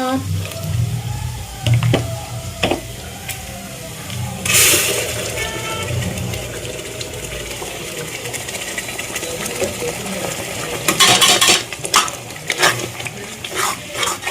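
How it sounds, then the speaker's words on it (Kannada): Ground masala is stirred into cooked onions in a pan for chicken keema sambar, with steady scraping and sizzling up close while a person talks over it. "ಇವಾಗ ಈರುಳ್ಳಿ ಬೆಂದಿದೆ ನೋಡಿ ಚೆನ್ನಾಗಿ ಇದಕ್ಕೆ ನಾವು ರುಬ್ಬಿಟ್ಟಿರೋ ಅಂಥ ಮಸಾಲೆನ ಹಾಕ್ಕೊಳ್ಳೋಣ"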